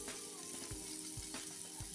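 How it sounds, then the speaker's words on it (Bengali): Potatoes and green plantain frying in a pan give a steady, low-level sizzle, with a few soft stirring knocks spaced through it and no voices. "আলু আর কাঁচা কলাগুলি খুব ভালো করে ভাজা হয়েছে।"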